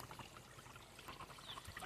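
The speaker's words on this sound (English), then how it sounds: "look at this little waterfall" A small woodland waterfall trickles and pours with a steady, soft watery wash, quiet and continuous throughout with no voices.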